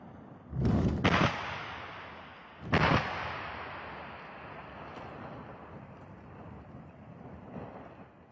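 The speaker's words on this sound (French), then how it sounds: "C'est l'heure du tir, chacun se met à l'abri." Blasting at the Gara Djebilet open-pit iron mine: two heavy, booming detonations about two seconds apart, followed by a long fading rumble and distant debris noise.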